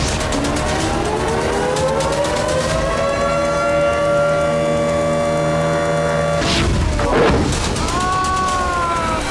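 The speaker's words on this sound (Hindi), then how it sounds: "खतरे का सायरन बज रहा था।" A civil defense air raid siren wails over Moscow with long rising and falling tones, loud and steady, joined near the end by a burst of rumbling, noisy commotion.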